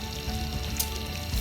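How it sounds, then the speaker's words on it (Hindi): Cumin and coriander seeds sizzle in ghee left over from frying pakoras for a kadhi tadka, a steady, close crackling hiss with small pops. "अब हम इसको तड़का लगाएंगे।"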